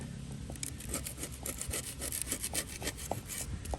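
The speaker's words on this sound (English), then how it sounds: "I'm going to start scraping" A shim scrapes baked-on residue from the inside of a Big Green Egg ceramic dome, making steady, close, rhythmic rasping strokes with no talking.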